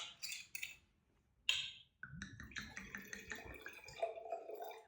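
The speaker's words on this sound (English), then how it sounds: "I always do a nice generous pour, none of this tasting pour nonsense" Nouveau red wine glugs and trickles into a glass in a generous pour after a few faint clinks, close and quiet with a soft liquid splash toward the end.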